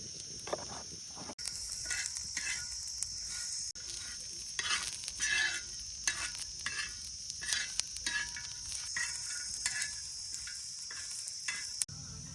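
Oil hissing in a hot pan while preparing a village-style vamb fish curry, a constant bright sizzle broken by repeated scraping stirs and a couple of sharp clicks.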